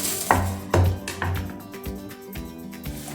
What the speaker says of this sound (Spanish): Así que por un lado vamos a cortar cebolla